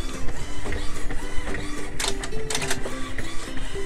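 An inkjet printer runs a print job, its print head shuttling back and forth with a steady mechanical whirring and rhythmic clicks, plus a few brighter rattling bursts midway, close and clear with no talking.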